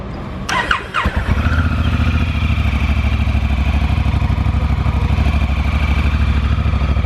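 A 2016 Honda Africa Twin motorcycle starts up with a brief clatter and then settles into a steady, loud, even idle, heard up close outdoors with no talking.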